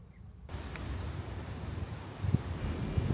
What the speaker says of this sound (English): the wind is actually picking up now. So we're getting some serious gusts going on